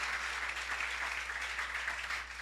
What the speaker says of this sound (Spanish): ríndele una fuerte ofrenda de aplauso